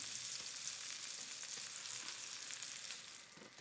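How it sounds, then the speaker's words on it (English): Slices of bread toast in butter in a wide pan, giving a steady, bright sizzle and crackle that continues throughout and eases slightly toward the end. "Toast them on both sides."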